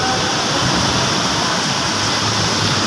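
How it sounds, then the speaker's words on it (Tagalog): Heavy rain pouring steadily, a dense continuous hiss and wash of water, loud and close, with no talking. "Inabot po kami ng ulan mga kabikers."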